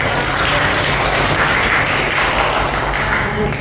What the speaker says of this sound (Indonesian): Oke, saya tepuk tangan dulu.